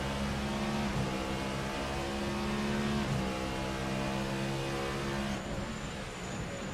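A race car lapping the Bahrain circuit, its engine note steadily loud, dropping under braking for the first corners and then rising again on acceleration, with a continuous harmonic drone and no voices.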